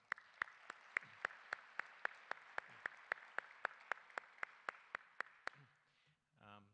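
Plenary audience applauding Stephanie Rudy with about twenty sharp, evenly spaced claps from a single nearby clapper, then a brief voice at the end.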